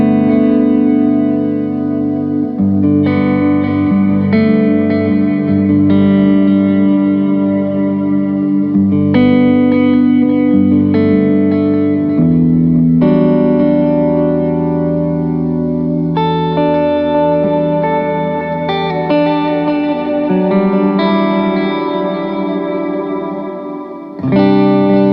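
An electric guitar played through a Line 6 POD Express reverb preset rings out sustained, shimmering chords that swell and overlap in a long wash of reverb, loud and continuous with no voices.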